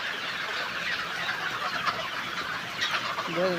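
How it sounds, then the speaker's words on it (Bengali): Chickens on a farm during hot weather, many birds panting with open beaks, giving a dense, steady background of clucking and bird calls throughout, with a clearer call near the end. "গরমে প্রত্যেকটা মুরগি হা করে ফেলছে।"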